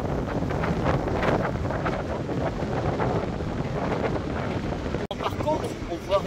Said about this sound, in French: Même par grand vent.